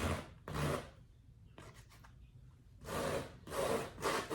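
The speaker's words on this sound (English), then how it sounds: "I have this silicone tool that's kind of like a comb on the side." A silicone comb tool scrapes and drags through wet paint during abstract mark making, giving a few separate rough rubbing strokes with short pauses between them, close and fairly quiet.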